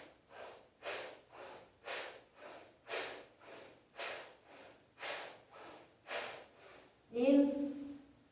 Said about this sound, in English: now let's do our 7 Bhastrikas